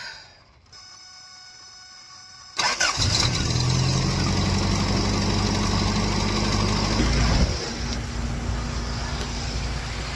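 A Toyota 4Runner engine, just back together after a thermostat replacement, cranks and catches abruptly, then settles into a loud steady idle that drops slightly in pitch and level near the end, with no voices.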